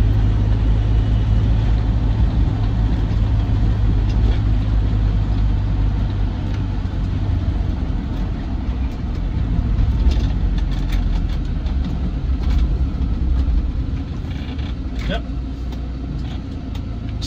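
A Land Rover Defender 90 TDCi soft top drives along, its diesel engine a steady low rumble heard from inside, easing off under braking, while someone talks over it.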